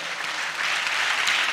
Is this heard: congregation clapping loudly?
yes